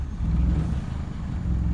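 A Honda Civic EG engine rumbles low and close as it starts up, a steady, deep drone with slight fluctuations in level throughout.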